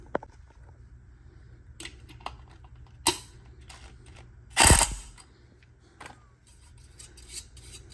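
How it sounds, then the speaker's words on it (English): An impact wrench tightens the fan blade nut on a Coffee Crafters Artisan 6M coffee roaster, giving one short, sharp rattling burst amid faint clicks and handling of metal parts in a quiet workshop. "then we're going to put the impact on there and tighten that down"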